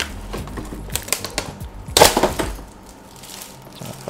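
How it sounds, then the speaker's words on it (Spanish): Crinkly tearing and crackling as a shiny plastic wrapper is ripped open on a Modelex scale model box, with a dense burst of crackles around the middle amid lighter rustling, close and fairly loud with no talking. "Me da tanta lástima romper esta bolsa tan bonita"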